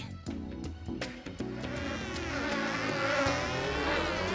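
A cartoon bee buzzes in a Donkey Kong video game, a continuous wavering drone that grows louder and rises after a series of sharp percussive musical hits.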